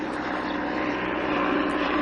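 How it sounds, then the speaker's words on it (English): A helicopter flying overhead, a loud continuous rotor and engine drone that holds steady throughout without pause. "Yeah, I know, helicopters."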